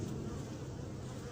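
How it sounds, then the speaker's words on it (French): A swarm of bees buzzes steadily as they stream out of the hive through a 5 mm opening, a dense, continuous drone heard close up with no pauses. "on voit que les abeilles sortent au fur et à mesure sans trop de problèmes"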